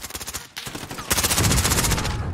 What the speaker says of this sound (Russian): А что это за РПГ было?